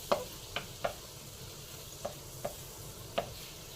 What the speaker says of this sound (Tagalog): Tunawin lang natin ang butter.